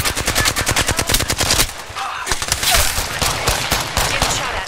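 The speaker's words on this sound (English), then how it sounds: "Getting shot at." Loud, close gunfire from the video game Apex Legends: a fast run of rapid automatic shots, then a brief lull before more scattered fire with game effects.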